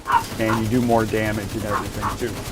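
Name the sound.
real dogs barking in background during recording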